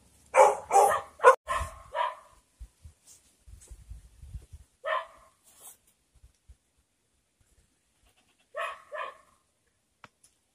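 A dog barks around the old Hicks Hall plantation grounds in Wilmington, St Thomas, Jamaica, with a quick cluster of sharp barks at first, then single barks after pauses, fairly close amid quiet outdoor surroundings.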